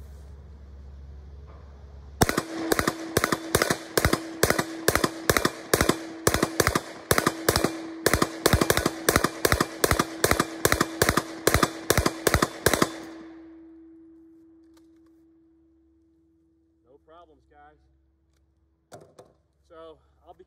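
Close, loud burst-by-burst test firing of a 9mm MP5 feeding 26 rounds from an AC Unity magazine: sharp, rapid reports in a steady string of about ten seconds, then a fading ring and brief talk afterward.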